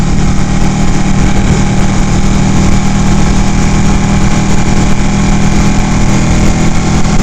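A Ducati 899 Panigale motorcycle engine runs loud and close throughout, a steady, dense mechanical drone that holds constant without breaks.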